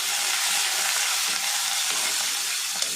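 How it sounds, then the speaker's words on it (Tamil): Tomato and curry leaves sauté in a pan for fish curry, a steady close sizzle and frying hiss with faint stirring scrapes underneath. "இது நல்லா வதக்கணும்."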